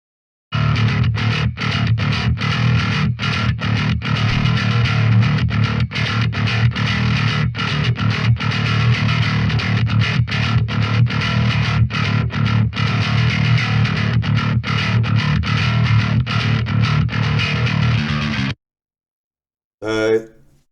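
Distorted bass guitar through the Audio Assault Amp Locker amp plugin, a dense, driven riff with chorus-like grit playing continuously for about eighteen seconds, then cutting out before a brief burst returns.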